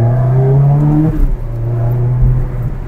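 Ferrari 360 Modena engine running close by, a loud steady drone with a clear tonal hum that dips briefly in the middle before settling back, alone without talk.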